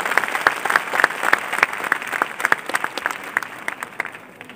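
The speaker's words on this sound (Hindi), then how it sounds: "फिरहाद हकीम साहब यहाँ आ गए हैं, उनका खैर मकदम जोरदार तालियों से किया जाए।" An audience welcomes a chief guest with scattered, irregular clapping: distinct sharp claps from a handful of people, fairly close, thinning out as it goes.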